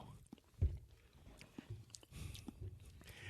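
Two men crunch and chew ghost pepper potato chips doused in habanero hot sauce, close-miked and quiet, with irregular bites and one sharp crunch early, in a quiet room.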